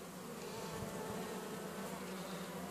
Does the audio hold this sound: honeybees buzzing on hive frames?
yes